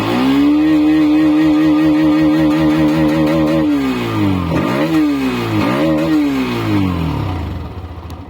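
A 2024 Hero Xtreme 125R motorcycle revs up loudly and close by, its engine note climbing steadily, then dipping and rising again in two further throttle blips before easing off.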